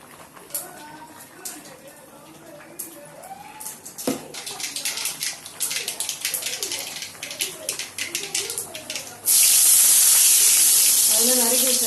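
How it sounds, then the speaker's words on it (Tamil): Mustard seeds splutter and crackle in hot oil in a pan, with scattered pops under a voice speaking, until a sudden loud, steady hiss takes over near the end. "எண்ணெய் ஊற்றி கடுகு போட்டாச்சு."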